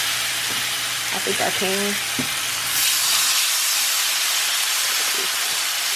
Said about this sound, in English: So I'm just gonna add my pork chops. Hopefully I can fit all 4 in the pan.